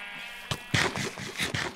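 Sheep in Minecraft bleat in a series of short, close calls, several quick bleats following one another after a brief quiet start.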